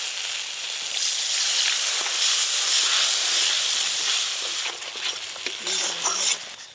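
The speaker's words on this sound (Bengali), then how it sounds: "মশলাটা খুব ভালো করে কষে নেব। অল্প একটু জল দিয়ে দেবো।" Spice masala being fried and stirred in a pan with a little water, a steady loud sizzle and hiss with scraping stir sounds and faint clinks, easing toward the end.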